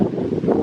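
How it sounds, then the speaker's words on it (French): Wind buffets the microphone outdoors in gusty low rumbles, loud and close throughout the short moment with no speech. "il y a un petit peu de vent et j'ai peur que ça fasse du bruit"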